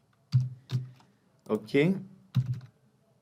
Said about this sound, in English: Here I'm entering the test card details, the expiry date, the card holder's name.